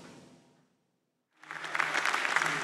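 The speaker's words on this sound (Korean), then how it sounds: "박수를 받으며 연단에 오릅니다" Applause rises as Slovak presidential candidate Zuzana Čaputová steps onto the podium, a crowd clapping steadily and loudly after a brief silence, dense and sustained to the end.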